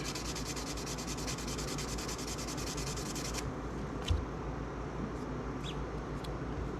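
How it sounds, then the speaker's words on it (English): A small spot on a 3D-printed resin poker chip bar being sanded, a close, steady rhythmic rasping scrub that stops partway, followed by a faint knock and light clicks. "then you have to go back and sand this little spot where I had some stuff connected"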